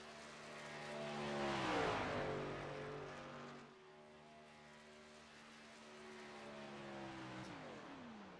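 The number 78 racing truck leaves the pits at Chicagoland Speedway, its engine note rising and falling faintly as it passes at a distance, then a second engine sweep follows.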